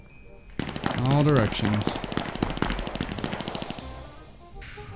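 Rapid automatic gunfire rattles in the battle royale video game Cuisine Royale, dense bursts of shots stacking up over a couple of seconds with a tonal game sound, while someone speaks briefly over it.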